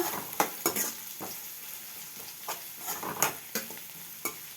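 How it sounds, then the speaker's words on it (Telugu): Onions with green and dried red chillies frying in oil for a Telangana-style amaranth leaf curry, with several sharp scraping stirs of a spoon against the pan over a faint steady sizzle. "పచ్చిమిర్చి, ఎండుమిర్చి, ఆనియన్స్ కొంచెం గోగిన తర్వాత ఆనియన్స్ కూడా వేగాక"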